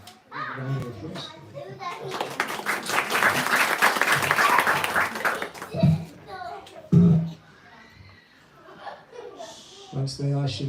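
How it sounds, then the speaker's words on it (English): An audience at a spiritual talk gives a round of applause that builds into loud, dense clapping mixed with children's voices and chuckles, then breaks off into scattered talk and laughter. "Round of applause."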